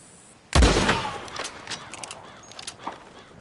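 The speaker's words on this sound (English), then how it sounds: "Put a shot in near them. I reckon they'll hightail it." A single sharp gunshot cracks in a Red Dead Redemption 2 ranch scene, then echoes and decays over the following seconds while faint clicks and thuds trail after it.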